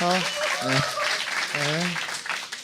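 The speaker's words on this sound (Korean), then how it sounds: "우리 담담한 사모님한테 박수 한번 박수 쳐주세요." A studio audience at a Korean talk show claps in a steady patter under someone speaking loudly over the applause.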